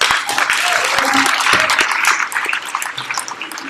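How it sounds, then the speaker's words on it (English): Audience applause for the organizers at a hackathon opening ceremony, a dense, steady patter of many hands clapping throughout, loud and close, with some voices mixed in. "we give a round of applause for the organizers because they did an amazing job"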